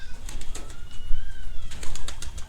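Pigeons coo softly among scattered clicks and light fluttering nearby as native pigeons feed inside a loft, with no voices.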